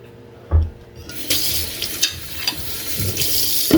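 Tap water runs over melongene (eggplant) being rinsed in a kitchen sink. A thump comes first, then a steady splashing hiss with occasional clunks close by.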